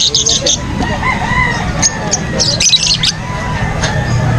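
Squawking parrots at a pet market, calls and shrieks of mixed birds overlapping close by in a busy, noisy setting with voices in the background.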